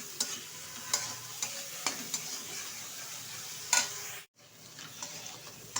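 Spice paste for a potato and pointed gourd posto curry sizzles gently in a pan, with soft frying hiss and repeated stirring scrapes every second or so, briefly dropping out near the end before resuming quietly.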